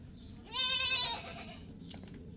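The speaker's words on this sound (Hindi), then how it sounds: "मैंने बकरी भीतर तक काट के बाहर बांधी" A goat tied outside in a home courtyard gives one clear, wavering bleat lasting under a second, close by, over a steady low background hum.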